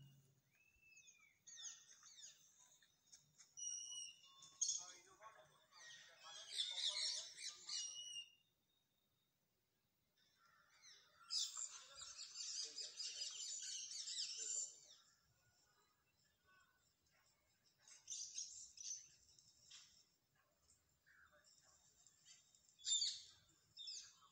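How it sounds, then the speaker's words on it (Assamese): Assorted birds at Guwahati Zoo, including mynas and parrots, chirp, squawk and whistle in bursts separated by quiet gaps, several different calls overlapping at moderate distance. "এয়া চাওক বিভিন্ন প্ৰজাতিৰ চৰাইসমূহ"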